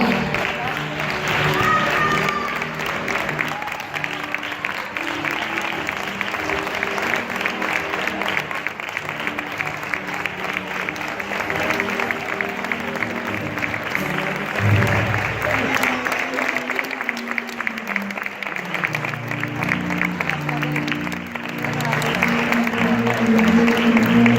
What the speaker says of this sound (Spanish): brindem un fort aplaudiment ple d'estima